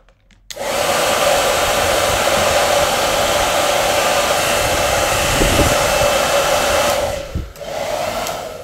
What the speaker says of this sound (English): Okay, hairdryer time.